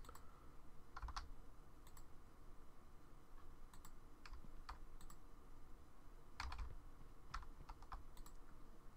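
Quick bursts of clicking keystrokes on a computer keyboard while playing a Minecraft modpack, irregular clusters of taps fairly close and quiet against a soft background hum, with no voices.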